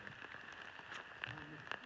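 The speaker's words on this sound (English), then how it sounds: "Well, it's raining now" Rain falls on a shelter at a hiking campsite, with a soft steady patter and scattered sharper drops. A low voice murmurs briefly in the background.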